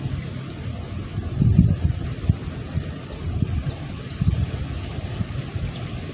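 Strong wind gusting in the open during a traditional fishing trip, a continuous low buffeting rush with a few stronger gusts, no talk.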